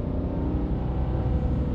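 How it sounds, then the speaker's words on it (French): The small PureTech 110 engine of a Citroën C3 hums steadily while driving, heard from inside the cabin as a loud, even low drone with a slight rise in pitch, and no voices. "Ce que j'adore, c'est le bruit de ce petit moteur là."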